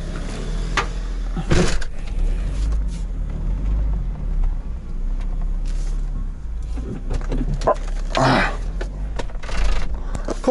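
A BMW E30 on the road, its engine giving a steady low drone through the cabin for the whole stretch, with brief rattles and clicks from the interior over it.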